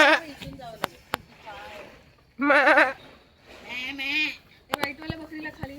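Goats on a farm at Sawarde near Chiplun in the Konkan give several wavering bleats, one loud and close, mixed with sharp knocks and people talking nearby.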